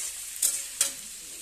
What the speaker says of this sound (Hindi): अब मैं इसमें अपने बैंगन डाल दे रही हूँ और हम इसकी फ्लेम हाई कर देंगे